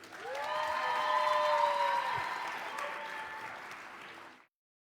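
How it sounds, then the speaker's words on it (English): An audience at a presidential debate event applauds the candidates, a sustained crowd applause that swells, holds, then fades out, with a voice speaking over it. "Another round of applause for our candidates who made it this evening."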